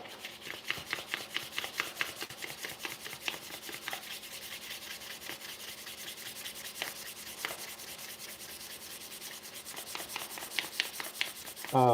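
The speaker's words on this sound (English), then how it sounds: "Let's start with 400 grit and see what happens here." Handles are hand-sanded with 400 grit sandpaper, producing quiet, rhythmic back-and-forth rubbing strokes, close and steady with no talk.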